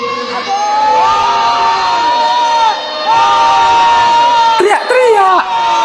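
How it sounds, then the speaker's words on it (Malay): A crowd at an evening tarawih gathering shouts and cheers loudly, with many overlapping voices rising and falling in waves and a burst of sharper yells near the end. "Teriak-teriak."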